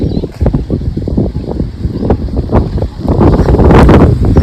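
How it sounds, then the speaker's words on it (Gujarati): Strong wind buffets the microphone outdoors at a countryside spot near a river, a continuous loud rumbling roar with gusts that swell toward the end. "અત્યારે પવન બહુ છે."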